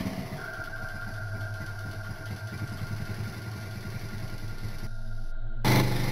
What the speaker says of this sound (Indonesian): Sorot sepeda motor itu pun mulai mendekat dan semakin mendekat